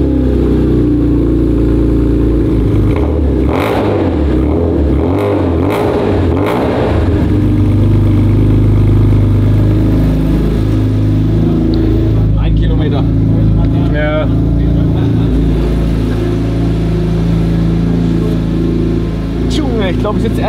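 A BMW E46 M3 engine rumbles and revs up and down over a long stretch, loud and close, with people talking over it.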